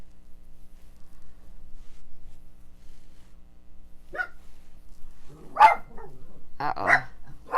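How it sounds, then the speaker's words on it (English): Pet dogs bark indoors in a few short, sharp bursts near the end, after a quiet stretch with low household hum. "my dogs are alerted to something"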